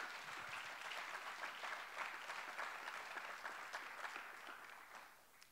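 A church congregation claps steadily and fairly loudly, a dense even patter of many hands that fades slightly toward the end.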